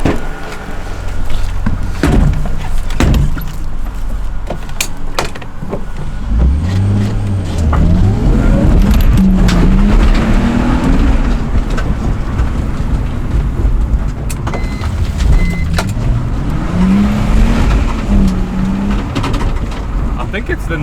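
A BMW E46 drift car drives off with its wheels spinning, the engine revving in rising and falling sweeps, loud and close, while people talk over it.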